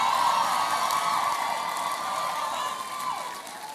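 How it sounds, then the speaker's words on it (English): Audience at a leadership talk clapping and cheering together in a large hall, a steady wash of crowd noise with whoops, fairly loud and continuous throughout. "Come on, clap with me, ladies."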